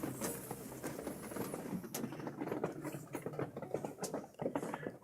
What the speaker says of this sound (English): I have the pitter patter of rain kind of blotting out.